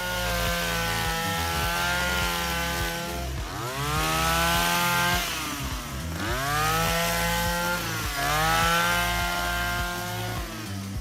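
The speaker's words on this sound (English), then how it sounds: "This allows the handheld harvester to operate more easily." A handheld lavender harvester runs steadily and loudly up close, its motor droning with repeated rising and falling surges as it works through the rows of plants, with no voices.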